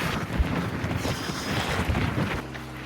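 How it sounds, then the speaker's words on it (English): Loud, steady wind buffeting the microphone outdoors during a run, a continuous low rumble with gusty surges throughout. "It's a little bit windy."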